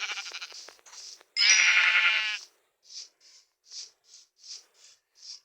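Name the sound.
sheep bleating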